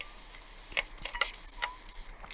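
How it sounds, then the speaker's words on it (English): Spray foam sealant hissing from a can while sealing the inside roof edges of a passive solar greenhouse, with several short bursts and brief crackles over a steady faint hiss, close by. "So I used some spray foam to seal up all the edges inside"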